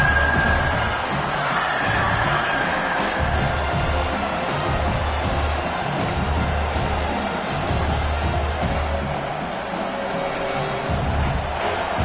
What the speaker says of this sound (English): this crowd is getting behind this defense